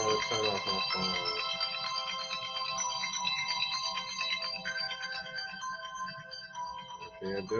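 A mobile phone ringtone rings loud and close in a bright repeating melodic pattern, steady for several seconds while someone talks over it.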